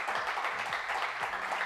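Studio audience applauding on a French television game show, a steady wash of clapping that fills the whole moment without pause.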